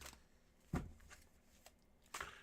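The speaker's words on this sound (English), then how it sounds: "here we go with your 4 official shuffles, Tansy." A deck of cards is shuffled in short bursts, with a few quick riffling snaps and pauses between them. The sound is close but soft.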